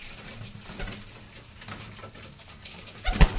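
Punjabi Malwai pigeons coo softly amid light rustling, with a louder burst of fluttering or movement near the end.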